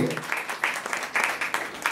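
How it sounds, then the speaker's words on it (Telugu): An audience claps at a 70th birthday celebration, uneven bursts of applause rising and falling in loose rhythm, moderately close, with a voice faintly present. "చప్పట్లు కొట్టండి ఒకసారి."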